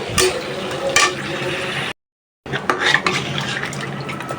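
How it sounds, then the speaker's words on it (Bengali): Water splashes into a cooking pot in short bursts, broken by a brief silent gap, with faint kitchen clatter around it. "এখন পানি দিয়ে দেবো"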